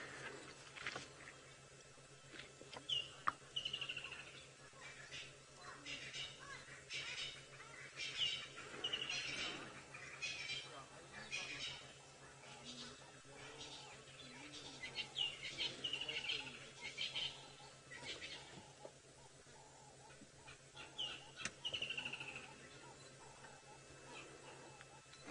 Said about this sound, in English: allowing you to listen to some of the bird calls around.